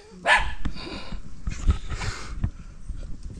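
One sharp, close dog bark opens the clip, then scattered rustling, thumps and a fainter second vocal burst follow against a noisy outdoor background on a crawfishing outing.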